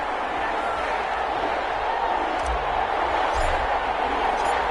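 Steady roar of a stadium crowd before kickoff in a video game football match between the Los Angeles Chargers and New Orleans Saints, a constant broad murmur with a couple of low thumps, and no talk.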